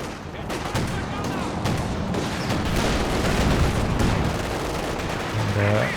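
Gunfire from a PTRS anti-tank rifle in Company of Heroes 2 on the Frost map, rapid cracks and bursts layered over dense battle noise with distant booms, continuous and fairly loud throughout.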